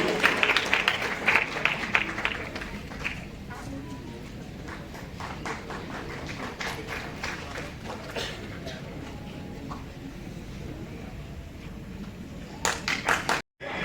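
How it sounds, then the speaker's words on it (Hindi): Audience applause in a hall at a ceremony honouring top-ranked students, a dense patter of clapping that swells loudly at the start, settles into steady background claps, then flares briefly near the end. "जोरदार तालियां चाहूंगा सदन से"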